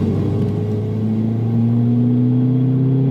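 A VW Golf Mk5 GTI accelerating hard in fourth gear, its engine note rising steadily in pitch as it pulls, loud and close, with road rumble underneath.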